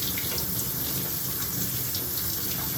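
A kitchen tap runs steadily while beans are rinsed, giving a loud, continuous broadband splash with no pauses and no talking.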